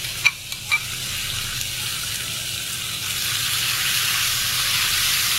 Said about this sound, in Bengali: তেলটা গরম হয়ে গেছে। এখন আমি ম্যারিনেট করা চিকেনগুলো এর মধ্যে ছেড়ে দিচ্ছি।